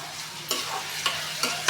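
Tomato puree frying with onions and tomatoes for a dhaba-style sev tamatar sabji, a constant sizzle broken by three sharp scraping strokes of a spoon against the pan at regular intervals.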